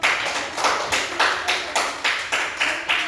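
Classroom applause for a student group after a presentation, several hands clapping in a steady repeated rhythm of bursts, close and fairly loud with no talking.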